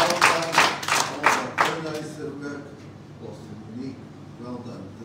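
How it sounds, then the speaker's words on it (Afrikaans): Church congregation at a Resurrection Sunday service claps briefly for the First Lady in a short burst of hand claps that quickly fades as speech takes over. "Kan ons vir die First Lady 'n groot hande klap gee?"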